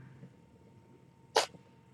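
One short, sharp sneeze bursts out once in a quiet room, with faint background rustling around it.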